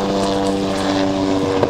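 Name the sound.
medical evacuation helicopter flying over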